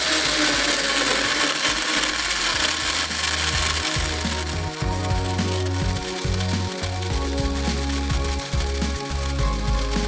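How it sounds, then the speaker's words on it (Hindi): A loud blender making a green smoothie whirs continuously, its motor pitch shifting as contents churn and thin out, running steadily for several seconds. "ये ब्लेंडर में, और आपने चलाना है इसको 1 मिनट तक।"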